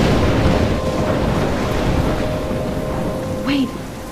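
In Life is Strange, a rainstorm roars steadily with heavy rain and low thunderous rumble, loud and close, while a voice speaks briefly near the end.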